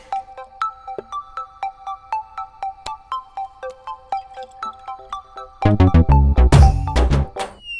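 A mobile phone ringtone plays a repeating melodic beeping pattern at steady volume, then gives way to a much louder, denser musical burst near the end, with no one speaking.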